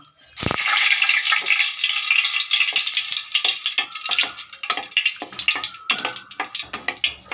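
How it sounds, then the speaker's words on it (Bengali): Dried red chili sizzles in hot oil, a loud burst of frying at the start that settles into steady crackle with scattered sharp clicks and stirring taps, no talking. "শুকনো লঙ্কাটা ভাজা ভাজা হয়ে গেছে"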